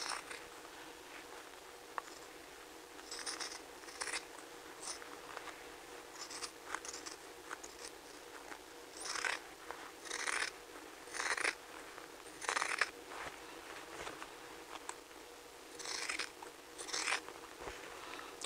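Scissors trim fabric seam allowance around a garment neckline, giving a steady run of quiet, crisp snips in short irregular bursts with brief pauses between cuts and no talking.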